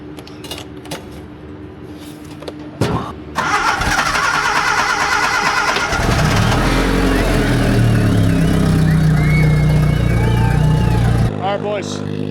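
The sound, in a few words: skid steer engine starting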